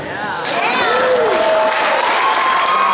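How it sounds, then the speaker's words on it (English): Applause for the bride and groom at a wedding reception, a loud sustained burst of crowd clapping that swells in and stays full, with a voice speaking over it. "Let's keep the applause coming"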